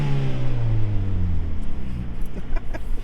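A 2010 Mazda 3 front-wheel-drive hatchback with a six-speed manual drifting: the engine revs hard close by and its pitch drops steadily, followed by a few sharp clicks and knocks.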